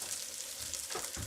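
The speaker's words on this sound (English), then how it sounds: "When you first start frying these, the pan isn't quite as hot as it gets over time" Potato pieces fry in a pan that is not yet fully hot, giving a steady bright sizzle and crackle up close with a few soft stirring scrapes and no talk.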